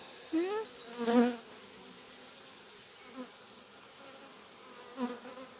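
Honey bee buzzing drifts past the microphone in a few short bursts with quiet gaps, faint and intermittent, as bees fly close by around their hive in an apiary.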